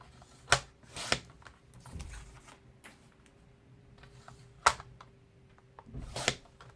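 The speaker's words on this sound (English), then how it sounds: "You're going to go ahead and cut where those marks are." Scissors cutting card paper along marked lines, a few sharp snips in separate bursts with quiet pauses between, close and clear with no talking.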